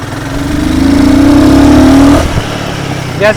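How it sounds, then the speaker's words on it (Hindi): A Royal Enfield Guerrilla 450 motorcycle engine revs up loud and close, its pitch climbing steadily for about two seconds before the throttle snaps shut and it drops back, with a short blip at the end. "जब इस टाइप का आप रेव देते हो तो आपको एक्चुअल में फील होती है कि क्विक शिफ्टर हमारा कितना ज़्यादा काम आता है"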